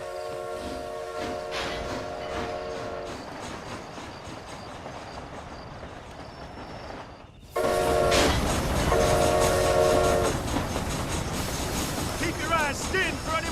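Train rolling out in the video game Red Dead Redemption: Undead Nightmare, steady rumble and clatter with horn-like tonal blasts, growing louder after a brief dip midway; voices speak over it.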